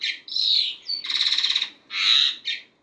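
A breeding pair of Jalak Hongkong mynas gives loud, close, harsh chattering calls in several bursts of squawks and whistled notes separated by short pauses, with no other sounds.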